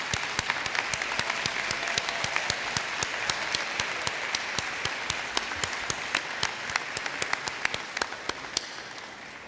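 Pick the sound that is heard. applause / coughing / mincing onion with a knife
applause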